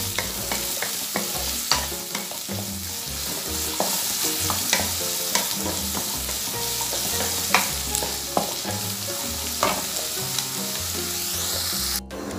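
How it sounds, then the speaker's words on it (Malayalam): Pieces of bitter gourd (pavakka) frying in hot oil in a second batch for a roasted theeyal curry, a continuous close sizzle broken by repeated scraping and clinking stirs, with no talking. "രണ്ട് പ്രാവശ്യമായിട്ട് നമുക്ക് ഇത് വറുത്ത് പോരാ"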